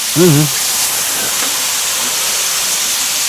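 Vinegar hits a hot pan while deglazing and sends up a loud, steady, hissing sizzle that fills the whole moment, after a brief voice at the very start.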